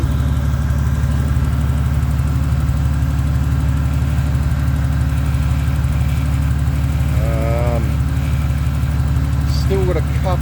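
A swapped engine idles steadily in a Ford Falcon AU wagon, a close, continuous low rumble with a constant even pulse that keeps going the whole time, joined briefly by a few faint squeaks.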